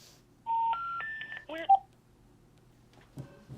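An AT&T DECT DL72219 cordless phone sounds a sequence of rising three-note tones after a wrong number is dialed, close and fairly loud, followed by a short lower beep and a soft thump, with no speech.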